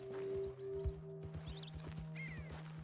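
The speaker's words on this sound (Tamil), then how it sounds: "ஐயோ ஓடுது அந்த குதிரை." A horse in the Red Dead Redemption 2 video game moves with a steady run of hoof clip-clops under a low droning background, with a brief neigh partway through, fairly quiet and with no talking.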